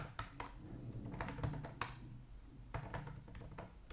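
Computer keyboard typing at a Git command-line terminal, with irregular clusters of clicking keystrokes and short pauses over a steady low hum, fairly close and alone with no voices.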